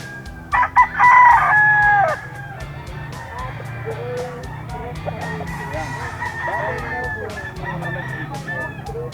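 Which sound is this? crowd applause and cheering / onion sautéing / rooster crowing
rooster crowing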